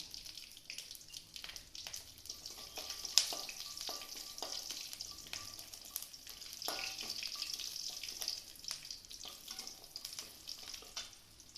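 Dried red chili, curry leaves, fenugreek and garlic sizzle in hot oil for a fish curry, a faint crackling fry with occasional stirring clatter.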